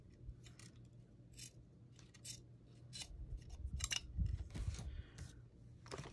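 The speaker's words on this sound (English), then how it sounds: "The scissors don't want to cut this very well either." Scissors cutting scrap paper for journal cards, with a run of crisp snips and crunches at an irregular pace, close but quiet over faint room noise.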